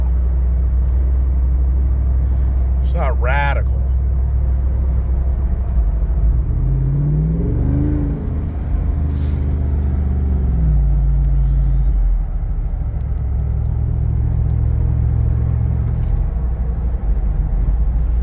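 A Jeep engine drones and rumbles continuously while driving, low and loud from inside the cab, bogging and straining as if lost in gear; a person speaks briefly midway.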